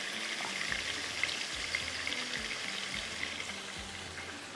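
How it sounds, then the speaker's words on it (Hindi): Qeema with cauliflower frying hard in a pan over high flame, a steady crackling sizzle that runs unbroken throughout, close and moderately loud with faint low thumps beneath and no voices. "यहाँ पर ये हम इसको अच्छे से भूनेंगे। थोड़ा सा हाई फ्लेम पे भून लीजिएगा।"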